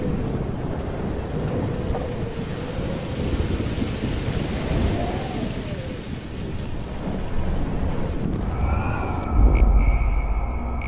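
A thunderstorm rages in the video game Life is Strange: heavy rain roars steadily with a low rumbling undertone. A thin tonal hum rises near the end.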